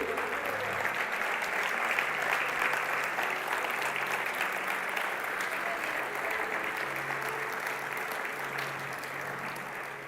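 A church congregation standing and applauding, a sustained broad roar of many hands clapping that stays loud and even for the whole stretch before easing slightly at the end, with faint voices mixed in.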